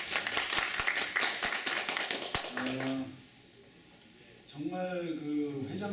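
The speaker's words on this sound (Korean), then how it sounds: "박수 한번." Audience clapping at an internship orientation, a few sharp, close handclaps over a brief burst of applause for about three seconds, followed by a quiet pause and then a voice speaking.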